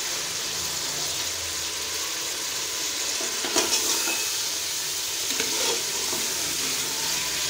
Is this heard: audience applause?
no